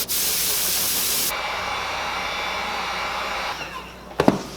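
A heat gun blows a steady, loud hiss while paint is sprayed onto a leopard frog spoon and jerkbait hybrid fishing lure near an open window, ending with a few brief clatters.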